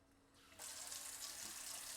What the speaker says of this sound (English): fill it up with the water.